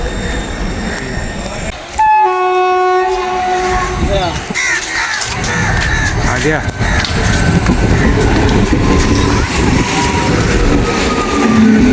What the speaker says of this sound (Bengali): তো তোমরা দেখলে আমাদের ট্রেন এখন এসে গেছে